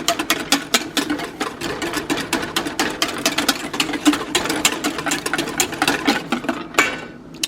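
A whisk beats rapidly against a bowl of warm rum drink, a fast, steady, close scraping clatter that runs without pause and without talk.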